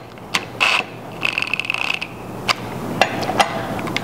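Bolts on the brake disc of a Yamaha TW200 motorcycle being tightened with a ratchet wrench, giving short mechanical clicking bursts and a few sharp taps, close and moderately loud with no talking.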